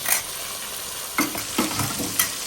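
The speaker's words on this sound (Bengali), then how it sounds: "এটাকে ভালো করে আমি কষাই নেব" Jackfruit curry with yogurt and turmeric sautéing in a pan, a continuous hiss broken by a few scraping stirs of the spatula, close and fairly loud, no talking.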